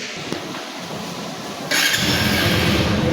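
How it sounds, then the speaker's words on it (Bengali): A TVS Apache 160cc motorcycle fires up with a short starter whir, then its engine catches and settles into a loud, steady idle close by. "এখন বাইকটা স্টার্ট দিয়ে আমি সাউন্ড দেখাবো, সাউন্ড কোয়ালিটি কেমন আছে।"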